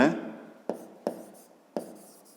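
A pen writes a measurement answer into a fifth-grade math notebook. Close, scratchy strokes come in three or four short bursts, each starting sharply and then fading, in a quiet room.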